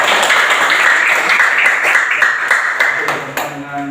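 Schoolchildren in a primary school classroom clap their hands together, a dense, fairly loud burst of group applause that continues steadily and then thins out toward the end.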